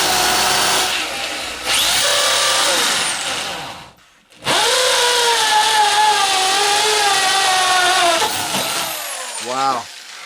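A power drill whines loudly in long bursts during shower plumbing work, its pitch rising and falling, with a brief pause midway and a revving spin-down at the end.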